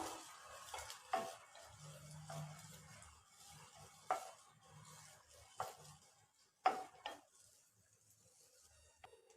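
Coconut roasting in ghee in a pan while being stirred, with soft sizzling under scattered clinks and scrapes of a spoon against the pan, several sharper knocks standing out, close and fairly quiet.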